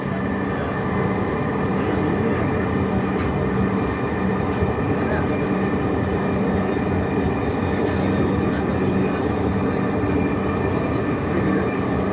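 A Dhaka metro train runs toward Uttara South station on the Motijheel-bound line, a steady loud rumble of wheels and motors filling the whole stretch, with an onboard announcement voice over it.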